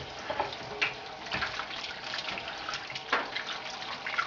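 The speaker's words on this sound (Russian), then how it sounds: "Затем я промываю это мясо еще на раз в холодной воде." Chunks of pork are rinsed by hand in cold water in a kitchen, a close, moderately quiet wash of flowing water broken by scattered splashes and sloshes, with no speech.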